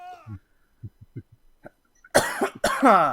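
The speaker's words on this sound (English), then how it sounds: "Sorry for my coughing." Several sharp coughs burst out close to the mic after a stretch of quiet, faint clicks, the last one trailing into a throaty rasp.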